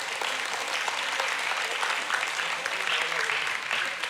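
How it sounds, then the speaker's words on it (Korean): Church congregation applauding during a Sunday worship service, a dense, continuous clapping from many hands filling the room, with faint talk mixed in. "인사하고 여러분들 박수 크게 한번 해주십시오."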